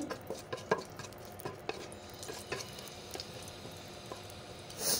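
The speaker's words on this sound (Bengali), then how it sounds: "দিয়ে দেব তেজপাতা, দারচিনি, সুন্দর করে ভেজে নেব।" Bay leaves and cinnamon sticks fry in oil in a pan, with a faint crackling sizzle and a string of light tapping, scraping stirs nearby.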